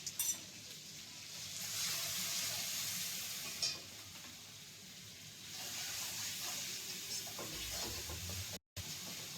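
Ground turmeric hitting hot oil in a pan while cooking a cauliflower and potato curry, a soft steady sizzle and hiss with occasional stirring scrapes, close and fairly quiet.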